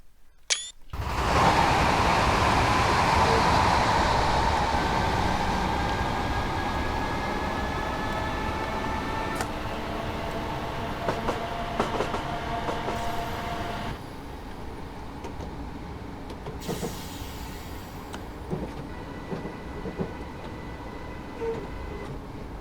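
A Class 321 electric multiple unit passes in Train Simulator 2017, its steady, loud rolling rumble and whine swelling in at the start and holding close for the length, with a few clicks and a gradual easing toward the end.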